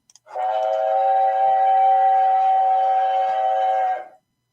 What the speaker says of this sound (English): I'm just going to show you what an actual South African 15F whistle sounds like